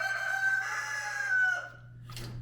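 A rooster crows in a long drawn-out call from chickens in a makeshift pen during extreme cold, followed by a brief softer cluck or rustle, near and clear over a steady low hum.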